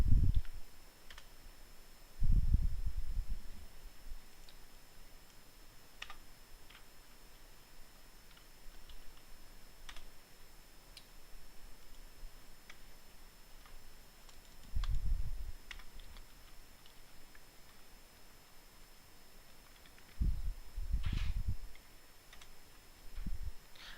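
Sparse clicks and taps on a computer keyboard while entering login credentials, irregular keystrokes over a quiet background hiss with a few louder thumps, no talking.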